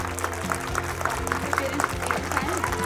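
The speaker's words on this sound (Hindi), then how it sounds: "बच्चे के लिए जोरदार तालियां।" An audience claps loudly for a child at a school kindergarten graduation ceremony; steady clapping runs throughout over prominent background music.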